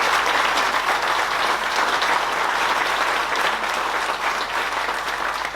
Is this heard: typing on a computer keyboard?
no